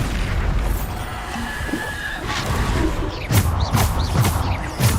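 Bombarda spell explosions in the video game Hogwarts Legacy land as a run of booming bursts. Several sharp, punchy blasts come in quick succession in the second half over a rumbling, busy battle backdrop.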